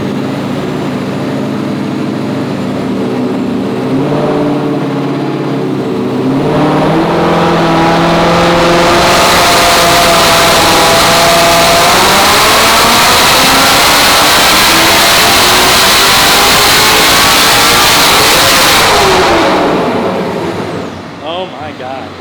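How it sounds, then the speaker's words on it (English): Roush Mustang built to roughly 1,000 wheel horsepower roars on a chassis dyno, its engine climbing steadily to a loud sustained scream around 7,500 rpm where it seems to bounce off the rev limiter, then cuts off; voices are heard in the room. "That almost sounds like it's hitting rev limiter in 7."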